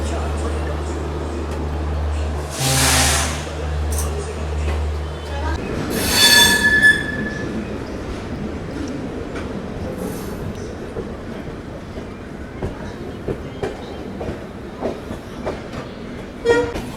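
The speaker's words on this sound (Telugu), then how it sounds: "సో బండి అయితే స్టేషన్ నుంచి బయలుదేరిపోయిందండి." The Mumbai LTT–Kakinada Port bi-weekly express pulls out of a station in India, its wheels squealing loudly at first and then settling into faint clickety-clack rhythms, with a voice talking over it.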